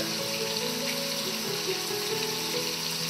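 Crawfish étouffée ingredients sautéing in a pan on a stove, giving a steady, dense sizzle that holds at an even level throughout, close and continuous.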